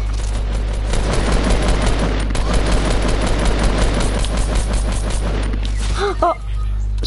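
Rapid, dense video game gunfire from a Fortnite match, a loud continuous burst of automatic shots with heavy low rumble, ending in a few distinct metallic pings and a cutoff.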